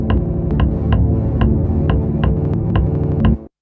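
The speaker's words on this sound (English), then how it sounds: "You can hear the stuttering, the tat-tat-tat on the pad." A scatter effect on a Roland SP-404 mkII sampler chops a dense, loud loop into rapid stuttering repeats, with a sharp, regular tat-tat-tat pulse running throughout before an abrupt cut to silence.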